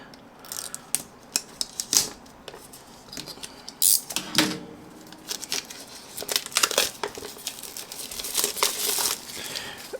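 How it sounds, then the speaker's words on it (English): Plastic wrap being peeled off the packaging of TWISTURA D-Minor in-ear earphones makes close, irregular crinkling and crackling, with sharp rustling bursts and small clicks scattered through the handling. "let's first remove this plastic"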